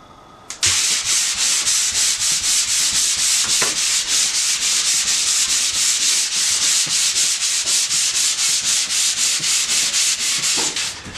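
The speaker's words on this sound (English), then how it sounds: "And then I'm just going to give it a light sand where I had all my marks." Light hand sanding of a wood surface in a workshop, a steady rapid back-and-forth scratching rhythm running close and loud for about ten seconds without pause.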